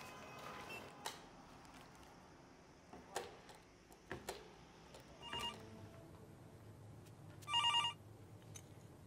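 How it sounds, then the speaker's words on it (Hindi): Telephone ringing in a Hindi comedy drama scene, a faint electronic ring burst heard late among quiet room noises and scattered soft knocks, with no talking. "तुम्हारा फोन आया है।"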